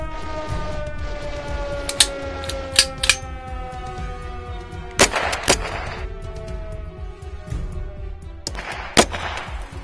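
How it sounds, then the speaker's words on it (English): Gunfire in the video game Patriot: scattered loud single shots and short bursts crack over a sustained siren-like tone and low rumble, with no voices. "we're kind of getting shot at right now"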